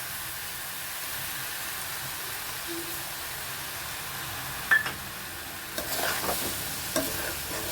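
Ivy gourd stir fry cooking in a pan gives a steady, soft sizzle throughout, with a few sharper clinks and scrapes of stirring near the end and no talking.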